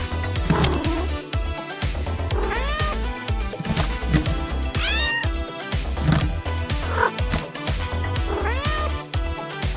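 A small pet cat meows repeatedly around a homemade cat cabinet, several rising and falling calls spread across the stretch, close and fairly clear with no talking.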